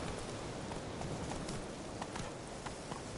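Roach, the horse in The Witcher 3: The Wild Hunt, gallops in a steady, close run of hoofbeats, a continuous dense clip-clop over a rough noisy bed.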